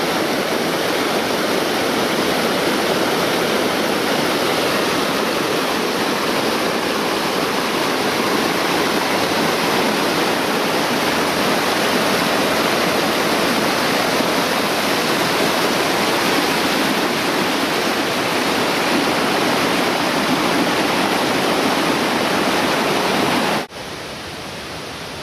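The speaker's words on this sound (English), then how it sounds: "This is the water from the stream." A mountain stream on Mt. Wilson runs in a steady, loud, broadband rush of flowing water that holds constant for nearly the whole stretch, then drops abruptly to a quieter level near the end.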